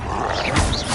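Troll roaring during a Hogwarts Legacy fight, a deep guttural growl swelling in the middle of a busy battle mix, close and fairly loud.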